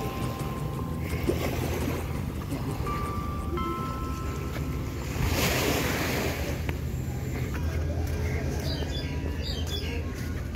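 Gentle waves wash steadily at Butterfly Beach, Tuen Mun, Hong Kong, heard from a short distance, with a few birds chirping faintly over the steady surf.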